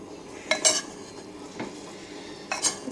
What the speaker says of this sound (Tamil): ஜென்டலாக மிக்ஸ் பண்ணி விடுங்க.